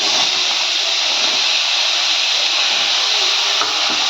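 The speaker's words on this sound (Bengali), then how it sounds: "এবার আমি এগুলো সব দিয়ে একটু কষিয়ে নেবো" Mutton is stir-fried with spices in a pan, producing a loud, steady, close hiss of sizzling that carries on without a break and with no voices.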